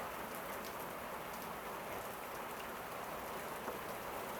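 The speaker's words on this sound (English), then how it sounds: "Wonder if you can hear that rain going on outside there." Steady rain falls outside a workshop, a dense, even hiss of drops holding constant throughout at moderate loudness, with no one talking over it.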